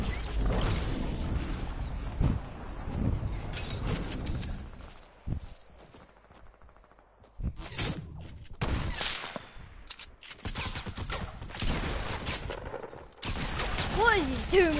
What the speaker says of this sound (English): I'm gonna have to snipe these kids.